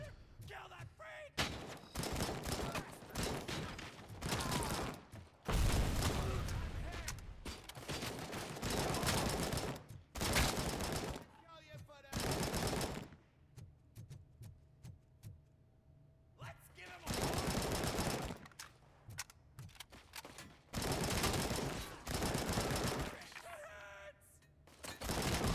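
Kalashnikov fire in the RoboCop: Rogue City video game comes in repeated loud bursts of automatic shots, separated by short quieter gaps, with occasional talk in between.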